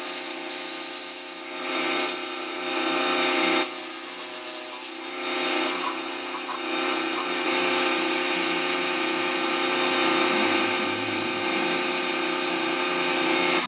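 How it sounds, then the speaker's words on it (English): Sandpaper held against a wooden spinning top turning on a lathe gives a continuous, loud rasping hiss with short breaks where the paper lifts and shifts. "Let's sand it a little bit and we are okay."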